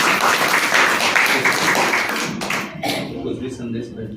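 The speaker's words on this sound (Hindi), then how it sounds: "एक बार ताली बजा दीजिए" An audience at a Brahma Kumaris Mahashivratri gathering claps together in a dense burst that thins into scattered claps and fades within a few seconds.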